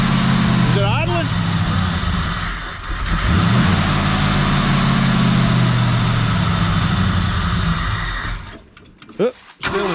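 A 1965 Ford Galaxie 500 hardtop engine running rough after long storage, struggling to hold an idle with a suspected throttle leak, a loud steady low rumble that sags near the end, with brief voices over it.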